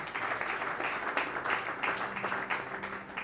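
Crowd applause at a church gathering honouring pastors and religious leaders, brisk clapping with rhythmic bursts over a faint backing hum, moderately loud and continuous.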